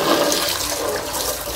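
Water gushing hard into a container at a dog kennel: a loud, steady, close rush of splashing water with no break across the short stretch and no talk over it.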